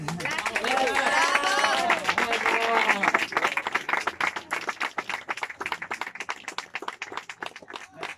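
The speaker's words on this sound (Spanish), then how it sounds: "un aplauso por eso y gracias" Audience applause at a public art festival: a crowd claps steadily and loudly at first, then the clapping thins into scattered, uneven claps, with a speaking voice heard over the opening seconds.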